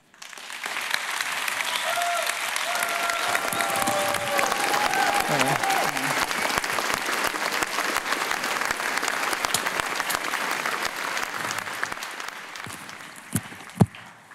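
An audience at the SLUSH 2012 tech conference applauds Jolla's Sailfish OS presentation. The clapping is long and sustained, with voices faintly under it, and it fades near the end, where a single loud knock stands out.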